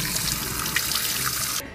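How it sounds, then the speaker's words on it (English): Tap water runs steadily over pepper seeds being rinsed in a kitchen sink, a continuous close splashing hiss that cuts off abruptly near the end. "And then usually I just rinse the seeds."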